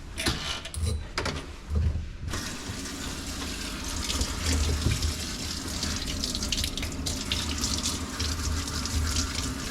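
Tap water runs steadily into a basin while a dog is being bathed, a continuous close splashing hiss after a few brief knocks and clunks at the start.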